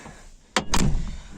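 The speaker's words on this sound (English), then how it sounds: "So let's close the door." The door of a 1993 Fiat Cinquecento 0.9 i.e. shuts with a quick latch click followed by a solid, close thud and brief rattle, single and fairly loud against quiet surroundings.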